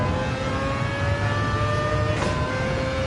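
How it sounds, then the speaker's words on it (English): A race car engine in Gran Turismo 7 drones loudly and steadily at high revs, its pitch holding fairly constant with a brief rise near the end, with no talking over it. "you can still hear my engine"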